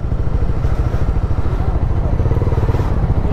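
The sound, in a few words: Honda motorcycles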